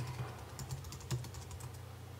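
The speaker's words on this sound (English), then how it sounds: "and type in MPEG Streamclip" Someone types on a computer keyboard, a quick run of close, light key clicks in an uneven rhythm, fairly quiet and with no talking.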